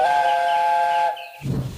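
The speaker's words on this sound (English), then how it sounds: "Just then the guard blew his whistle." Guard's whistle blown at a train station in an animated railway show, one long loud steady shrill tone held for about a second, followed by a short breathy hiss.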